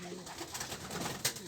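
Racing pigeon cooing softly in low, soft bursts amid a steady background hiss, with a brief sharper sound near the end and no talk.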